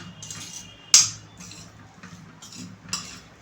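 A spoon stirs lemon peel pickle in a bowl, giving one sharp metallic clink followed by softer scraping and a second lighter tap, close and quiet with no talking.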